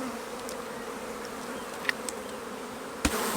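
A dense, steady drone of many honey bees buzzing around an open hive fills the air, with a few faint clicks and a sharper knock near the end.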